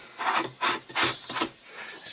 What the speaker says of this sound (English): We just got to unscrew this